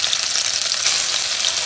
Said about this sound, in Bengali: চিংড়ি মাছ গিলা তেলত ছাড়ি দিব